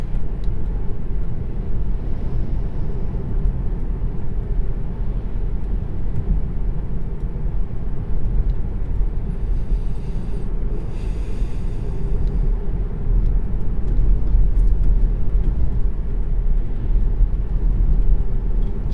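A 2019 Tesla driving on Autopilot, heard from inside as a steady low road and tire rumble with faint cabin hum, swelling slightly near the end, with no talking.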